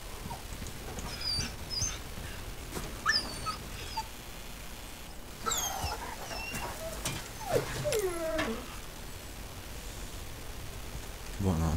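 A dog whimpers in the Resident Evil 4 Remake video game: several short, high, wavering whines scattered through a steady rain-like background hiss, moderately faint, with a louder burst of whining near the middle.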